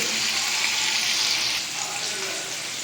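Hilsa fish fries lightly in a pan, a bright steady hiss and sizzle that eases slightly in intensity partway through, with no talking.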